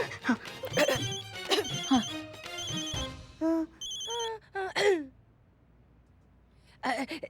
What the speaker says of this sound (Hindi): डीएसपी सर का फोन आ रहा है